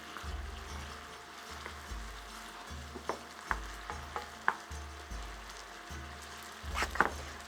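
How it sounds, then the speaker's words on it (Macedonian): Meatless mushroom goulash base with spices frying in a pan, a soft steady sizzle with occasional sharp pops and the scrape of stirring, quiet and close. "И сега го оставам да си се пржи."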